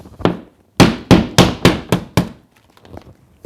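Six sharp, heavy hammer blows knock out a pre-cut circle of drywall in a quick, steady rhythm, loud and close, followed by a few faint crumbling taps.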